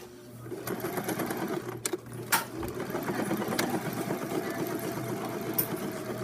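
A sewing machine stitches straight across a pyjama-pants seam to hold it flat, a steady whirring motor run that lasts several seconds with a couple of short hitches and light clicks, close by and without talk.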